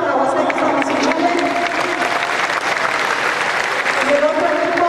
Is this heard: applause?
yes